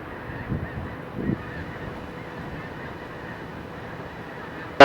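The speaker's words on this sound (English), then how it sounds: "Look at all the snow geese up here." Distant snow geese honk in a few brief bursts over steady wind and outdoor rumble, heard from a small plane in flight, with a sudden loud knock at the very end.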